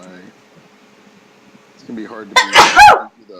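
A single sharp sneeze bursts out loud and close near the end, right after a brief stretch of quiet talking on a mic.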